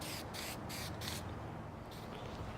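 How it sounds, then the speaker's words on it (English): Red spray paint hisses from an aerosol can over a stencil on a wooden Porsche logo, several short bursts in a row, with a quieter burst near the end, close but soft. "Just spray the red."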